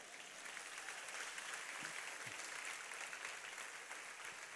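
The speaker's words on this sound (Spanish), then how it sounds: "¿Cuánto te da un aplauso a Dios por eso, verdad?" A church congregation applauds during a Spanish-language sermon, a faint, distant, continuous hiss of many hands clapping with no clear voices.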